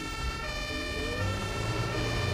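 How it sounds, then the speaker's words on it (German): A car siren in the Brick Rigs video game wails steadily over a constant engine hum, continuous and fairly prominent throughout, with no talking. "du hast eine Sirene an deinem Auto?"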